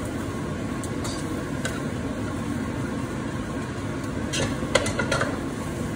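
Fresh soaked rice noodles stir-fried in a pan for gluten-free Singapore noodles, a soft steady sizzle under a few light scraping clinks of a utensil against the pan.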